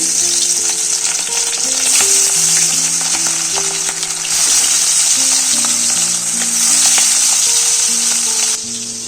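Turmeric- and salt-rubbed fish frying in hot oil, a steady loud sizzle and crackle running throughout with a few brief stirring clinks and no voices.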